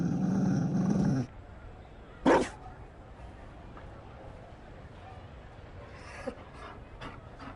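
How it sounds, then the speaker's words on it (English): A Mabari war dog in the video game Dragon Age: Inquisition pants in short breathy bursts. A louder stretch of voice or music plays at the start, followed by quieter game ambience. "You found a dog?"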